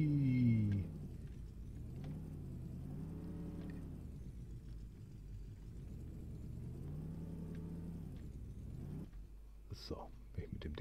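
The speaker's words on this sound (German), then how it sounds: "Dann fahren wir erstmal diesen Trans-Am hier wieder weg." A Trans-Am car in the farming game Landwirtschafts-Simulator 2015 drives away, its engine droning and rising and falling in pitch in several slow waves, with a low rumble underneath, before ending in a few brief clicks.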